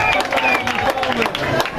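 A school audience at a scholarship certificate ceremony in Songololo claps in a short, dense burst, with crowd murmur and a voice speaking over it.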